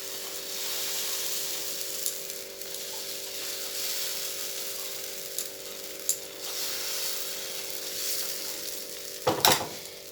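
Oil sizzles steadily on a hot tawa at moderate level, a continuous frying hiss with a few faint clicks and a sharp clatter near the end; no one speaks.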